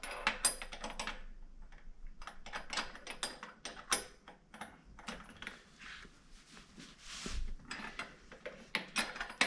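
Mechanical clicks and ratcheting taps while wheel nuts are snugged down gently during assembly of an EVOL bike, a quiet, close run of irregular short metallic clicks with brief pauses and no talking.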